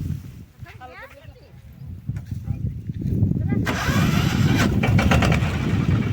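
A tractor engine cranks and catches around midway, then settles into a loud, steady rumbling idle; a voice is heard briefly at the start.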